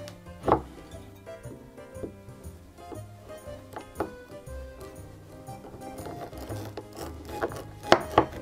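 A knife slices through a block of provolone cheese, with soft scraping drags and a scattering of sharp knocks as the blade meets the cutting board, close up and unhurried.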